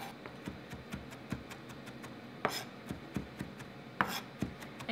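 Knife slicing capers on a cutting board for a vegan kale Caesar wrap, a steady series of light, close taps and scrapes with a couple of louder knocks, no talking.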